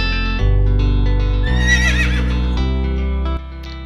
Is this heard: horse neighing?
yes